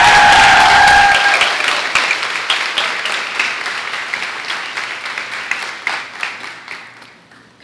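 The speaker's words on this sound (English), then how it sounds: "I think all of this deserves a round of applause." Applause from an audience at a girls' high school speech day and awards ceremony, loud dense clapping after a brief opening that gradually thins and fades toward the end.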